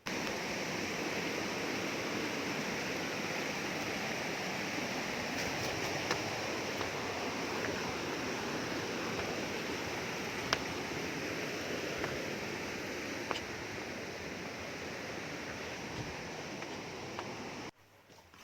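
Waterfall spilling over rocks where the Gandhinagar and Ovally rivers meet in the Nilgiris: a steady, dense roar of rushing water, close and continuous throughout, with no voices.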